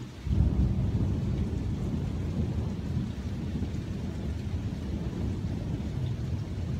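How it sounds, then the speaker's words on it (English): A southern thunderstorm with steady rain and a low, continuous rolling rumble of thunder, strongest at the start and then sustained, with no voices present. "another beautiful southern thunderstorm today"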